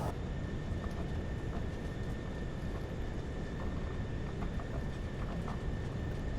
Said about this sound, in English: Sorry if you couldn't hear me because of the freaking plane's engines.